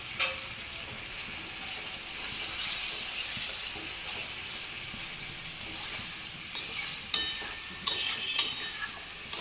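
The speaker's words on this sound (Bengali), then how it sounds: "একটু মশলাটা ভাজা ভাজা হয়ে যায়" A steady hiss of oil sizzling in a pan as spices and green chillies fry, with sharp clicks and taps of a utensil stirring toward the end.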